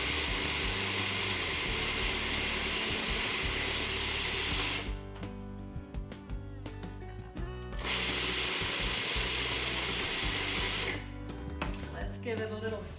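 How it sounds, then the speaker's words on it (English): Food processor whirring steadily while olive oil streams in for classic Italian pesto, a loud continuous motor drone with two brief dips where the pitch changes, and a person speaking quietly in between. "now I'm going to stream in our olive oil with the food processor on"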